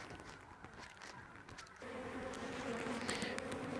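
Honeybees in a hive with the lid just removed during an October check, a steady close buzz that swells and grows louder partway through.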